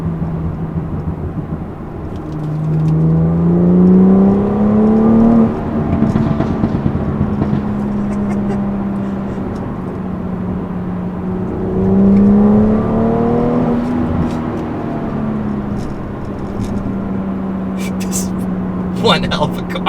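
BMW 340i with the M Performance Package revving hard in third gear, a loud rising engine note with exhaust burbles and crackles, close by and sustained, with a voice talking over it.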